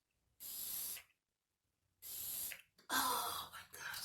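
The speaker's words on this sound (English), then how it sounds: "Let me take my setting spray." Three bursts of aerosol spray hiss, the first two about half a second each with a pause between, the last longer and broken into quick pumps, close by.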